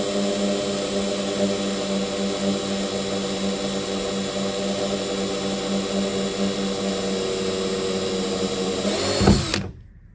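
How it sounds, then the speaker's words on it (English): A power drill whirs at a steady high pitch for about nine seconds while fitting a side mirror on a 1970 Cuda, then winds down abruptly and stops, leaving silence. "basically just holding the drill in place and let it do its work"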